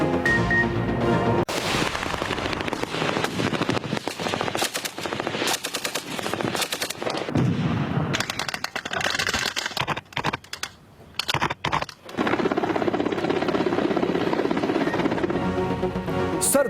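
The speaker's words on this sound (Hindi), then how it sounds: "हेलीकॉप्टरों से लेकर रॉकेट लॉन्चर और जंगी जहाजों की घन गरज" Pakistan-Russia joint military drill with helicopters, rocket launchers and warplanes: loud, dense bursts of rapid gunfire and rotor roar run almost continuously, with a brief drop near the middle before the barrage resumes.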